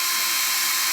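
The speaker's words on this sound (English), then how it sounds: "I have my drill, and I'm going to just gently tighten this down" A short, steady burst of a cordless drill gently tightening a screw while wall-mounting a makeup light, close and even, with no pauses.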